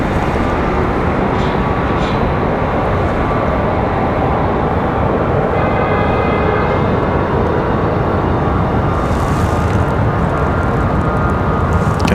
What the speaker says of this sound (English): Gonna be a good sounding departure for the A321.